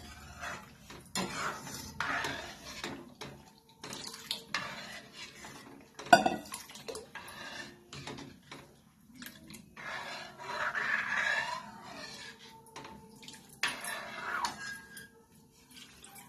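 Vangyachi kadhi, a Marathi eggplant and buttermilk curry, is stirred steadily in a pot over a high gas flame. A spoon scrapes and clinks against the metal in quiet, uneven strokes, with one sharper knock partway through.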